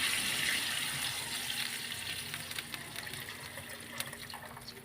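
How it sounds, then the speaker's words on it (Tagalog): Water pours steadily into a cooking pot of meat and seasoning in a continuous splashing stream that gradually eases, with faint clinks near the end. "Saka natin lagyan ng tubig."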